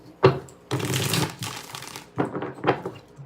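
Tarot cards being shuffled by hand, a sharp snap followed by several papery riffling bursts of varying length, close and fairly loud, with no speech.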